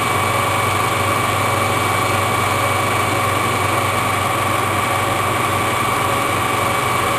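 A drill bit bores into a metal part for a miniature woodstove, making a loud, steady grinding whine with a constant motor hum that runs unbroken throughout, with no voices.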